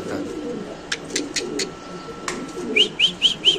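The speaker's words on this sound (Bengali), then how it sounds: "দর্শক, আমরা একটু কবুতরের নিচে ছেড়ে দেখাবো আপনাদের" Pigeons let loose on the floor of a pigeon farm coo softly amid low background noise, a few brief clicks and flutters followed by a series of short rhythmic calls near the end.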